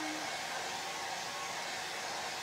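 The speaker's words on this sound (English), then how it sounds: "so just to make sure this is more dry before you put the big one on, we're going to use a blow dryer." A handheld blow dryer runs steadily the whole time, a loud, even whooshing roar with no pauses, used to dry fabric paint on a homemade Fourth of July fireworks t-shirt.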